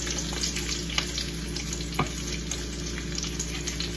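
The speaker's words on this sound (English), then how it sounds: "I'm gonna turn my bacon over because it is looking good" Bacon fries in a pan, giving a continuous dense crackling sizzle at close range with a few sharper pops and no voices.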